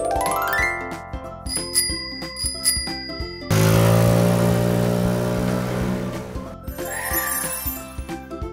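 A bicycle bell rings clearly and brightly, with a few quick dings set against cheerful background music.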